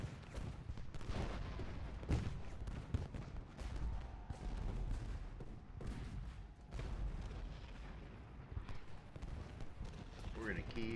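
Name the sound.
artillery fire in video game Ultimate General Gettysburg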